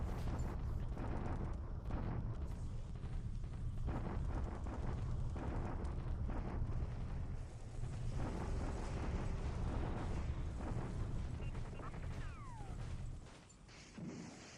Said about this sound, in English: And Allied bombardment today.